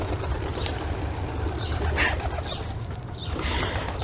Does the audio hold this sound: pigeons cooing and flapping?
yes